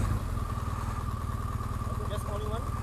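A touring motorcycle idles close by with a steady low, throbbing rumble while people talk over it.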